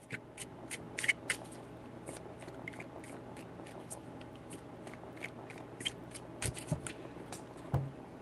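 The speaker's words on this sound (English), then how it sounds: "3 shuffles" Faint, sparse flicks and taps of tarot cards being handled and shuffled, scattered sharp clicks over quiet room hiss with no talking.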